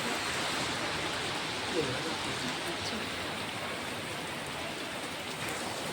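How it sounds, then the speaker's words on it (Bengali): A heavy downpour makes a dense, unbroken hiss that holds at an even level throughout, with no voices over it. "বৃষ্টি ঝমঝমিয়ে বৃষ্টি হয়ে যাচ্ছে"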